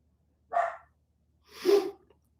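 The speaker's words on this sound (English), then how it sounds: "I don't know what in the world my dogs are going crazy over." Dogs barking outdoors, two separate excited barks about a second apart, fairly close and otherwise quiet between them.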